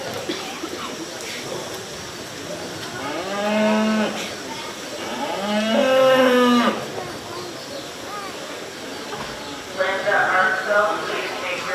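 Beef cattle low at a county fair 4-H/FFA market beef show, a few drawn-out moos in the middle and near the end, heard over crowd murmur and announcer talk.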